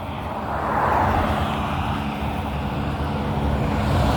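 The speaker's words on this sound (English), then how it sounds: "And sorry about the traffic, man. You know, the noise on the road and all of that," Road traffic rolls past nearby, a continuous broad roar that swells as vehicles pass and stays loud with no speech.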